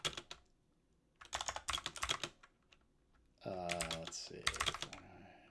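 Rapid clicking of keys on a computer keyboard while an assembly program is entered into an Apple II emulator, in short bursts with pauses, close and clear, with someone speaking briefly between the runs of typing.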